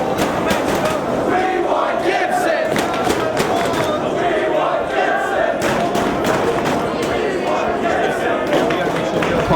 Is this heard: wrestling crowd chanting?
yes